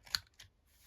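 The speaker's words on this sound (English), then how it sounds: "snip and snip like so" Scissors snipping a paper craft tag: two quick, crisp cuts close by, the first sharper than the second, then quiet.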